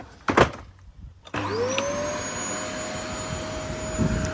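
An old upright vacuum cleaner with a brush bar that does not spin switches on after a couple of clicks, its motor whining up to a steady, loud whirring drone with a high tonal whine that holds to the end.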